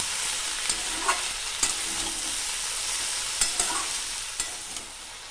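Taro stolons and shrimp tossed together in a frying pan with a little Kashmiri chili powder, giving a steady soft sizzle broken by several sharp scrapes and clicks of the spatula, close and alone with no voices.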